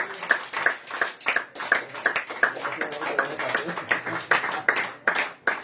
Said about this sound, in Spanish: Dale aplausos al Señor.